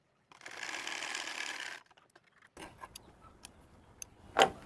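A sewing machine stitches the end of a pants side pocket in a short steady whir lasting about a second and a half, followed by quiet clicks and handling noises and one sharper knock near the end.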